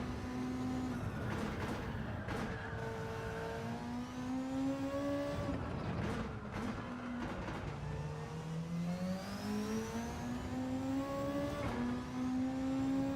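A race car engine in Gran Turismo 7 revs repeatedly, with rising and falling engine pitch sweeping up through the gears, broken by brief sharp shift cuts, loud and steady throughout.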